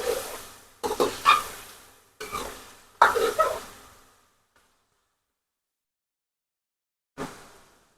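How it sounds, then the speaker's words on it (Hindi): Potatoes are stirred and fried in a pan of tomato masala, producing a few loud scraping stir bursts. A long quiet gap follows before one last short stir. "आलूओं को अच्छी तरह भूनेंगे।"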